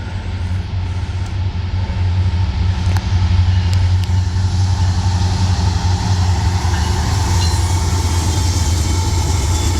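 Freight train led by an SD60 locomotive, number 6945, with two AC44C6M locomotives, passing a road crossing with a loud continuous low diesel engine rumble and rolling rail noise close by.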